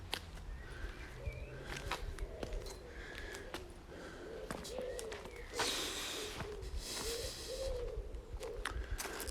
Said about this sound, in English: And it's really nice to hear these birds.